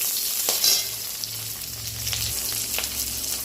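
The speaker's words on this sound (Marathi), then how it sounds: "त्याच्यामध्ये कांद्याचे स्लाइसेस टाकायचे आहेत" Onion slices fry in hot oil in a kadai, a steady bright sizzle with occasional stirring scrapes and clicks, close up and without speech.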